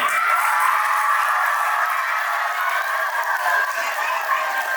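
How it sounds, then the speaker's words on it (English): A dense wash of applause and crowd cheering at an Independence Day school performance fills the clip, steady and loud throughout with no pauses. "Another round of applause for all of them."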